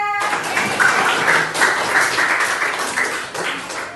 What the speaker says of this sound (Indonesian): Tepuk tangan untuk kerjasama kita.